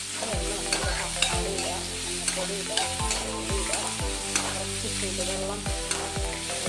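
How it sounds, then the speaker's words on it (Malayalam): Food being stirred in a frying pan during a Malayalam home breakfast cook, an egg dish in a gravy. A spatula scrapes in steady repeated strokes over a continuous close sizzle, with no talking. "നന്നായിട്ട് ഇളക്കുക"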